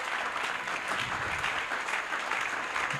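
A church congregation applauds its pastor during a Sunday service, a steady, even wash of many hands clapping at moderate volume from start to finish with no voices standing out.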